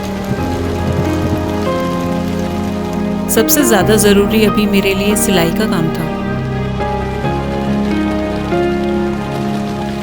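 Steady heavy rain drums on a surface nearby, a constant wash of drops, while someone speaks over it.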